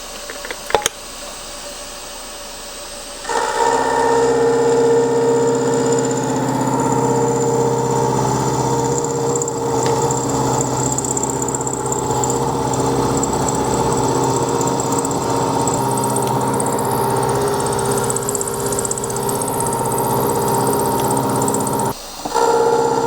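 A milling machine cuts a T-slot into the side of a faceplate, taking 50 thousandths per side: a steady, loud motor and cutting drone with tonal whine, starting abruptly after a quiet moment and running continuously before dropping briefly near the end.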